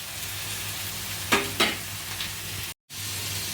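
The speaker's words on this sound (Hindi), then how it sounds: "और फिर से हमें इसे 5 मिनट तक भून लेना है, गैस का फ्लेम मीडियम करके और इस तरीके से फैलाते हुए" Sabudana khichdi ingredients roasting in a pan over a medium flame, a continuous dry sizzle with two sharp scraping stirs partway through and a brief drop to silence near the end.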